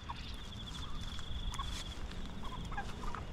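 Quiet outdoor ambience with soft clucking and a few gobbling, chicken-like calls from a nearby rooster and two hens, Plymouth Rock and Australorp chickens, over a constant faint hum.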